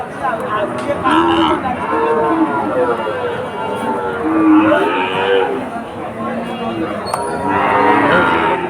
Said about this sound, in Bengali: সুন্দর সুন্দর বাছুর আছে।